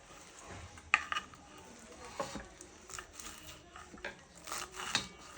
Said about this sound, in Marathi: तर आता आपण याच्यावर मेथीची भाजी बारीक कट करून घेऊ।